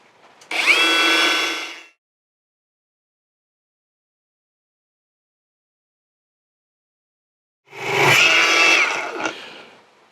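Non-Makita angle grinder on a Makita battery whirring up in two loud, close bursts of about a second each, separated by a long stretch of silence.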